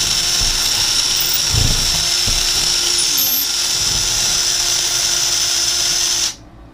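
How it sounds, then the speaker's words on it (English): A power drill with a long 1/4-inch bit whines steadily at high pitch for several seconds, boring through foam, then cuts off abruptly near the end. "I just used a long 1/4-inch drill."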